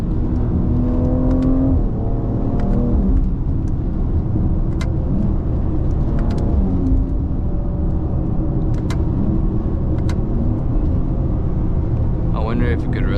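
A BMW X3 M engine revs and accelerates with a steady loud exhaust rumble throughout, with brief sharp clicks and a faint whine near the end.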